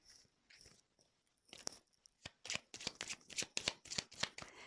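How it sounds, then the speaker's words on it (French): Tarot cards are shuffled and drawn in a quiet room, a dense run of crisp riffling flicks and snaps that grow steadier and louder, with no talking. "je vais prendre d'autres cartes."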